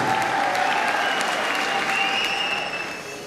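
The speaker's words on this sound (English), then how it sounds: "Polite applause." Polite applause from a boxing crowd in Belfast, a steady patter of clapping that fades out toward the end.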